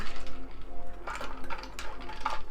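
A gin and tonic with ice and a squeezed lime wedge stirred in a cup, giving light clinks and ice rattles over a steady low background hum, close and fairly quiet.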